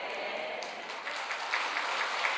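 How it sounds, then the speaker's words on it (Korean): A congregation at a Korean Sunday worship service claps along together, a dense, even patter of many hands with a few louder accents near the end. "박수까지 쳤으니까"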